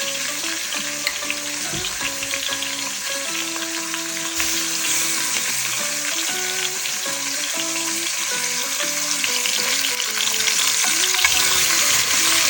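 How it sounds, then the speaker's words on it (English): Pork ribs sear in a hot pan with a steady, loud sizzle and crackle running throughout, broken by occasional stirring and scraping noises; no one speaks. "we're gonna start searing the pork, the ribs"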